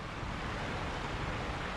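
A roaring waterfall in the video game Sekiro: Shadows Die Twice gives a loud, steady, dense rush of crashing water that holds without a break, with no voices.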